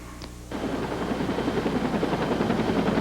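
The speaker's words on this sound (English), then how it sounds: "A Flight for Life helicopter transported Michael" A Flight for Life medical rescue helicopter's rotor chops loudly and rhythmically, kicking in abruptly and then holding a fast, steady thumping pulse nearby.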